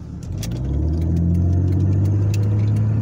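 A black Chevrolet Caprice on a city street gives a loud, close, steady engine drone with a deep low rumble that builds slightly and holds, with a few faint clicks above it and no talking.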